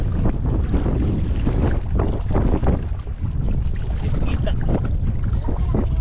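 Loud, gusty wind on a shell-strewn beach buffets the microphone continuously, a low rumbling roar with rough fluctuations and no pauses.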